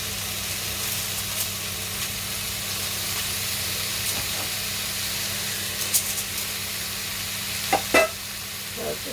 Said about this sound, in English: I just need to fry these off both sides and make sure they're cooked right through